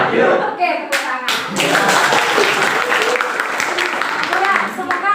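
A class clapping hands together, a burst of mixed, uneven claps that swells into steady group applause, with voices talking over it.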